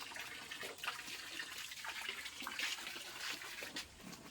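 Water runs and splashes from a tap, a soft continuous trickle with irregular spattering bursts, fairly quiet and without voices.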